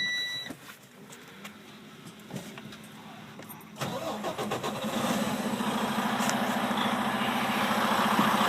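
A fuel-hauling truck engine cranks and catches after a few quiet clicks, then settles into a steady rising rumble that is close and continuous, with no talking over it.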